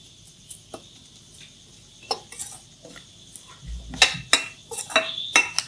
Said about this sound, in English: Coconut also gets burnt up very quickly, so we need to keep on tossing it.